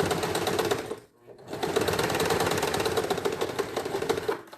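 Sewing machine stitching a child's shorts with a backstitch, a steady close whirring run that stops briefly, then resumes, with no talk.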